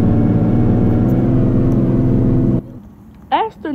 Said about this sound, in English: As the new 25 bus air conditioner